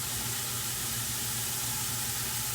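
Minced garlic added to a pot for tomato orzo soup, a steady close hiss and sizzle that stays even and unbroken, with no talk.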